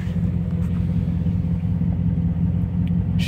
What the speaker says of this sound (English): 99 Z28 with the SLP Loudmouth 1 exhaust. See how loud it is in here.